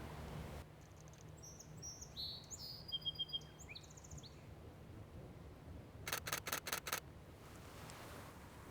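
A camera shutter fires in rapid bursts, a short cluster of quick clicks and later a run of about five sharp snaps, close to the microphone. It photographs a song sparrow at an inlet, whose high chirps and whistles are heard faintly beforehand.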